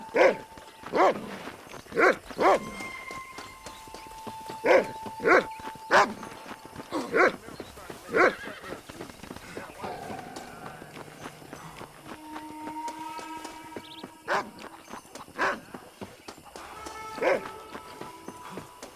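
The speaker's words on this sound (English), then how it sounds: "Damn mutt!" A dog in a Western video game barks in sharp, repeated bursts, some close and loud, with hooves clip-clopping and someone shouting between barks.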